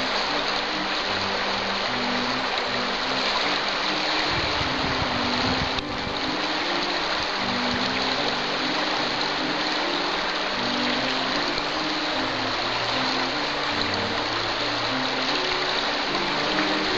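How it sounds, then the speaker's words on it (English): Creek water flowing steadily at a trail crossing in a coastal park, a constant broadband rush and trickle filling the whole stretch, close and even, with a brief low thump partway through. "the live action thrilling event of Sue crossing Wattle Creek"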